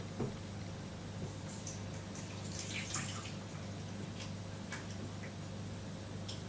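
Water is poured into a baby bottle warmer, giving a faint trickle with scattered drips and light splashes over a steady low hum.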